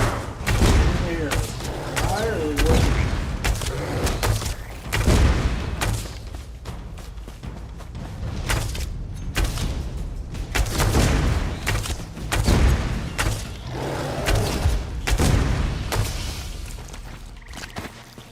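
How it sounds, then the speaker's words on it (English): Fireworks in Elder Scrolls Online burst repeatedly in irregular booming pops and crackles over about eighteen seconds, with a voice talking intermittently over them. "yeah, fireworks."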